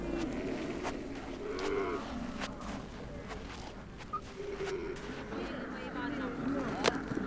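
Cattle lowing in the Gobi Desert of Mongolia as a nomadic camp packs up for winter migration, several moos rising over a steady windy outdoor background with scattered knocks and clatter.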